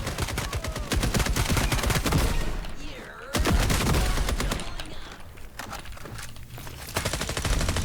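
Rapid bursts of gunfire and sharp sniper shots in the shooter video game FragPunk, loud and dense throughout, with short gaps between volleys.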